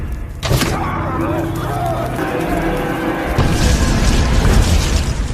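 A firecracker explodes in a horror film scene about a cannibal family, a sudden loud boom that breaks a brief hush and gives way to a dense, sustained rumble with a louder surge near the end.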